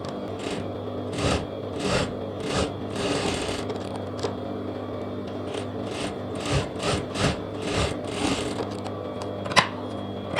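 A sewing machine stitches the sleeve of a lehenga blouse in quick rattling bursts separated by brief pauses, close and steady, with no voices.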